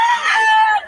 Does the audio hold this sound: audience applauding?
no